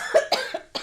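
A short run of four quick, dry coughs from one person, close to the microphone, with nothing else around them.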